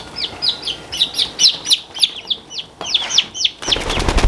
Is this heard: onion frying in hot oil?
no